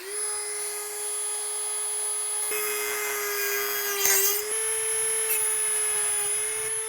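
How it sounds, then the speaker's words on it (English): A Dremel rotary tool cutting through material while fitting an oil cooling system, a steady high-pitched whine that dips briefly under load partway through, close and continuous with no talking. "So I'm gonna use my Dremel, and I'm gonna take my time and cut it."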